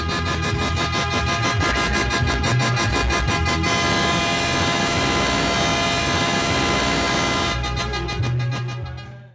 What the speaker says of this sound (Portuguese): As buzinas ecoaram pela cidade.